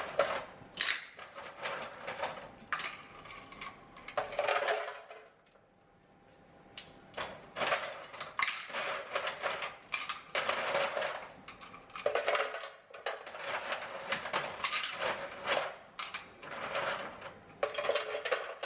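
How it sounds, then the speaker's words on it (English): A freezer ice machine drops about three cups of ice for a piña colada protein shake, giving bursts of clattering, rattling cubes with short pauses between, close and moderately loud, no talking. "Yes, I brought my entire ice machine from my freezer because why not? We're gonna do about 3 cups of ice."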